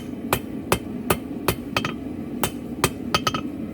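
A hammer strikes round steel bar on an anvil to forge it square for a longhorn bull coat hanger. About a dozen sharp, ringing blows fall at an uneven pace, some in quick pairs, over a steady background hum.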